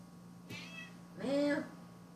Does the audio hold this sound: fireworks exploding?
no